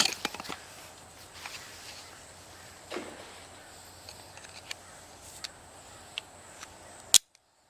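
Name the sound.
palm frond bow drill spindle snapping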